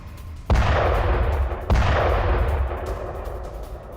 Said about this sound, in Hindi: आईआरजीसी के ठिकाने पर भी बमबारी, ये देखिए आप